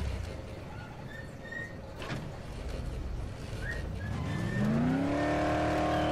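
A car stuck atop a wall in the Dead Island zombie game, its engine droning and revving steadily higher with a rising whine, brief tire squeals chirping over the rumble, no talking.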